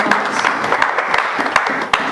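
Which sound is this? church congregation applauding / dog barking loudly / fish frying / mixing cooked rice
church congregation applauding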